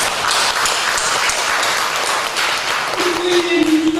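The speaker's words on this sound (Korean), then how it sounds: "박수 한번 하겠습니다" Applause from a church congregation in Jinju, broad and steady for about four seconds, with a faint voice surfacing near the end.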